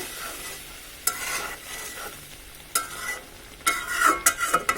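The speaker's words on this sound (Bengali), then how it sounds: "একটু নাড়াচাড়া করে দিচ্ছি।" A spoon stirs prawn bhuna in a pan, scraping in a few distinct strokes over a soft background sizzle, with the stirring growing busier and louder toward the end.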